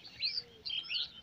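Egrets and other waterbirds feeding on fish near fishing nets give two short, faint bursts of high chirping calls, one after the other.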